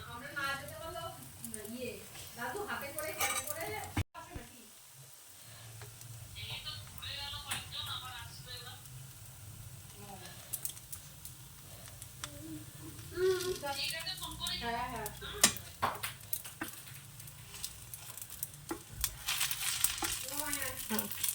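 Pithe rice cakes frying in a pan, a soft continuous sizzle with occasional clinks and stirring under steady talking.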